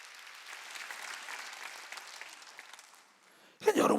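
A church congregation claps during a worship service, a fairly faint, sustained patter of applause that fades out before a sudden loud burst of sound at the end.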